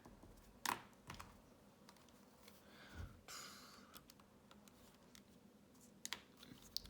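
Calculator buttons being pressed in a few scattered, quiet clicks and taps, with short gaps and irregular spacing between them.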